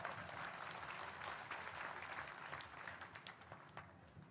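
A crowd at a gathering of sadhus and saints applauds in faint, dense clapping that stays steady and then thins into scattered claps toward the end, heard at a distance.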